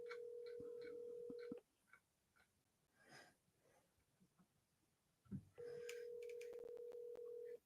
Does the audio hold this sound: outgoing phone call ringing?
yes